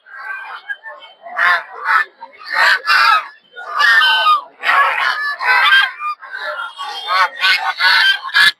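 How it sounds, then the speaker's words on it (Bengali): Geese, including Chinese geese, at a crowded winter poultry market in Putia give loud, repeated, harsh honking calls in quick bursts, close by and overlapping. "এদিকে আছে হচ্ছে রাজহাঁস, চীনা হাঁস।"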